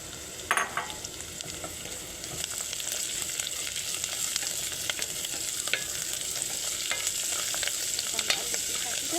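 Vegetables frying with browned onion and garlic for a taro and tomato dish are stirred in a pot, making a continuous soft sizzle with occasional scrapes and a sharper clack near the start. No one speaks.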